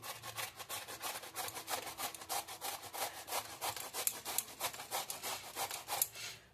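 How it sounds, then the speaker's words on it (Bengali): Bottle gourd is rubbed against a hand grater in quick, even rasping strokes, a rhythmic scraping repeated many times at close range with no voices. "এবার গ্রেটারে করে আমি গ্রেট করে নিচ্ছি"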